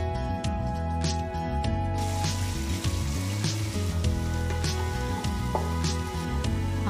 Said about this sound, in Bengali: হালকা ব্রাউন করে পেঁয়াজ ভেজে নেব।